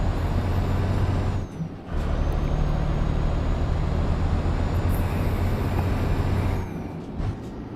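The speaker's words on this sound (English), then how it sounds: "gently touching the brake" Truck air brakes in Euro Truck Simulator 2 while the driver gently touches the brake: a steady loud hiss of air over a constant low engine rumble, with a brief dip and a lighter tail near the end, no talking.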